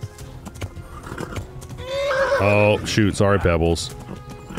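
A horse in Kingdom Come: Deliverance gives a loud, close, wavering neigh over steady hoof clip-clops, while someone briefly speaks nearby.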